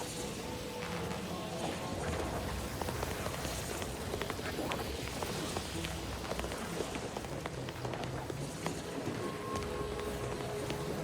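Rain falls in The Outer Worlds 2, a continuous dense patter across the whole stretch with scattered sharper hits and splashes, steady and fairly close.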